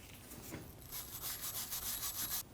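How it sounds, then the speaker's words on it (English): A wire brush scrubs a rusty rear wheel hub on a 2013-2015 Subaru XV Crosstrek during a parking brake job, giving a faint, steady run of quick rasping strokes with no talking. "Using a wire brush, or if you have it, a die grinder, clean up the hub."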